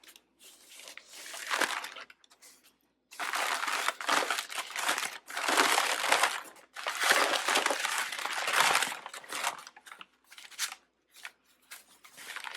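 Packaging material around a planter crinkles and rustles while it is pulled from an unboxing. The crackling comes close and loud in irregular bursts with short pauses between them.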